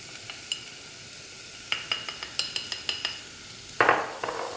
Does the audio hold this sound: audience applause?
no